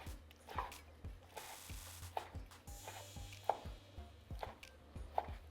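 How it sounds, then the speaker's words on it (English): A knife dices cooked food for a Cajun creamy chicken pasta on a cutting board, giving a steady run of close, crisp chops about every half second with no voices. "Just dice it up, just like this."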